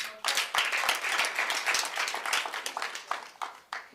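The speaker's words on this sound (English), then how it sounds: "You may want to clap for that." An audience at the official opening of the Bethanie Youth Expo 2024 claps in a burst of fairly close, dense hand claps that thin out toward the end.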